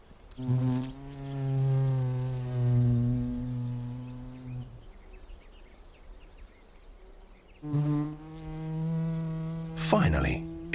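Wild bees buzz steadily and close by while building a nest entrance with small stones, the drone rising and pausing before resuming, with a brief rustle near the end.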